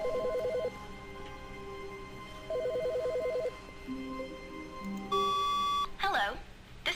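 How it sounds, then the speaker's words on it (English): A phone ringing in the video game The Stanley Parable, two bursts of rapid trilling rings separated by a pause, followed by a tonal electronic beep and a voice starting to speak. "That's a phone."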